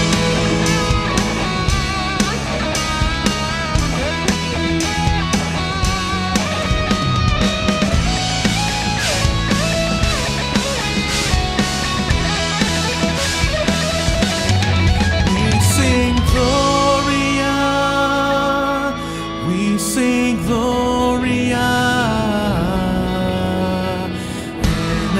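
Planned, pre-composed electric guitar solo from a rehearsed cover arrangement, playing continuously with a full band behind it, loud and dense with fast melodic runs throughout and no talking.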